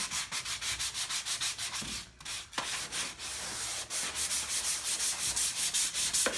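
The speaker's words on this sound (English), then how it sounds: "Sounds almost like I'm sanding wood." Steady rhythmic scraping of sandpaper rubbing back and forth over a fabric chair painted with mineral paint, quick repeated strokes with a brief pause midway, close up.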